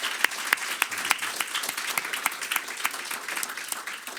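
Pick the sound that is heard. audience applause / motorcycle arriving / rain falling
audience applause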